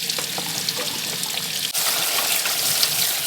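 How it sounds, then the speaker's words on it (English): Canned beans drained and rinsed under a running kitchen tap, giving a steady close rush of water with a splashy hiss that briefly shifts and grows brighter midway, continuous and alone without talk. "you first want to start by draining and rinsing your beans"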